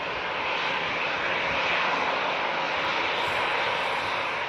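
Engines of an Emirates jet airliner arriving from Dubai at Manchester Airport, a loud steady broadband roar that swells slightly midway and holds for the whole stretch.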